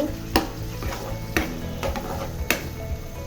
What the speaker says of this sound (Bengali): এরপর রসুনটাকে একটু তেলের সাথে ভেজে নিব